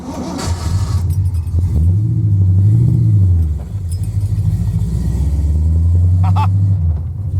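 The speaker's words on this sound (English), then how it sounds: "It is really awesome to see that GTO fired up and actually on Power Tour." The engine of a Pontiac GTO on the Hot Rod Power Tour rumbles loudly and steadily at close range, rising and falling through a couple of revs, with faint clinks and clatter on top.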